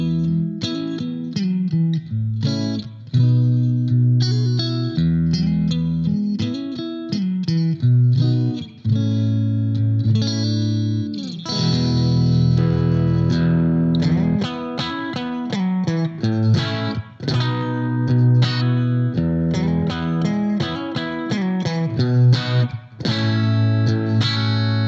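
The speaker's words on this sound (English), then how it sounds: "you could hear a little breakup at the top end there as I went to the bridge humbucker and dug in a bit" Electric guitar played through a Blackstar ID Core V3 amp on its clean bright preset, switching to the bridge humbucker and picking hard so chords and notes break up slightly, a continuous loud strummed passage with mild distortion.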